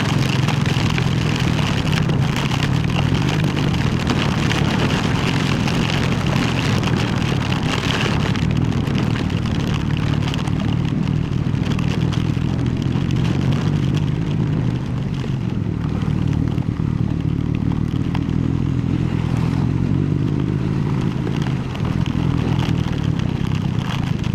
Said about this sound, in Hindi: It's heavy rain man, heavy.